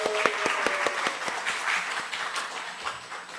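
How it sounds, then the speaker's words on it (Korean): A church congregation at a Wednesday service applauds, a dense burst of many hands clapping with sharp individual claps standing out, loud and close, gradually thinning toward the end. "박수 한번 쳐주시죠."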